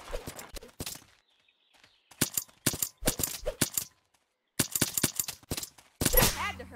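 Paintball markers fire in quick bursts of sharp, close shots at an outdoor paintball field, clustered into several volleys separated by short pauses, with louder, denser firing near the end.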